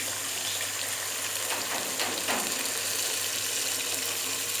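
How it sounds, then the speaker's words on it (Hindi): Two litres of water poured into a pot of soaked rice for chicken rice, a steady close gush and trickle running throughout over a constant background hum. "मैंने डबल पानी लिया है, 2 लीटर, वो इसमें डाल देंगे।"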